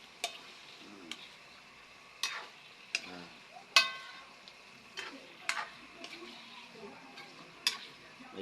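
Food is stirred in a pan during evening cooking, giving scattered soft scrapes and clinks of a utensil against the pan at irregular intervals, fairly close but quiet over a faint background.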